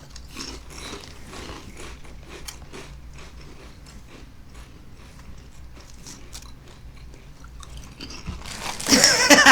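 Crunchy chewing of cheddar and barbecue wrap snacks, close to the mouth, a run of irregular crisp bites and crunches that turn louder and denser near the end, with no talk.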